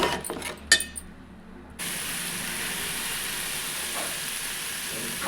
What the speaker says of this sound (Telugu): ఇందులో నుంచి ఆయిల్ సపరేట్ అయ్యేంత వరకు బాగా డ్రై చేయాలి.